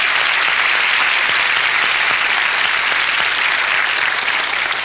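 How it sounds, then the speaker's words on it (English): An audience gives a steady, full round of applause for Lenore at a motivational talk, a continuous dense wash of clapping with no voices. "Why don't you give Lenore a round of applause"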